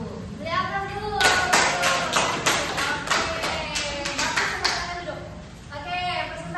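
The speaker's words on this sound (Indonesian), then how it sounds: "Beri aplaus dulu" Applause in a classroom, a burst of many hands clapping in quick irregular claps for a few seconds, with voices talking before and after it.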